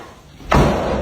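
A heavy hospital restroom door slams shut, a single abrupt loud bang after a moment of quiet, followed by a brief lingering rumble in the small room.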